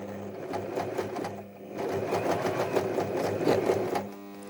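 A sewing machine runs a straight-stitch seam along a marked line, its steady, close whirring needle rhythm continuing for several seconds with a brief slowdown near the start, no talking over it.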